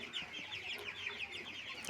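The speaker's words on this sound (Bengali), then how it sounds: "এই হলো আমার ব্রয়লার মুরগির বাচ্চা" Eighteen-day-old broiler chicks on a farm chirp continuously in a dense, overlapping chorus of high peeps, fairly faint and steady throughout, with no voices.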